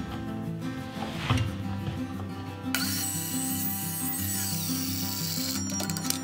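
A clamped metal pipe being cut for pie cuts: a tool runs with a steady mechanical whine, then the cut bites in with a louder, harsher grinding that holds close and constant to the end, with no speech.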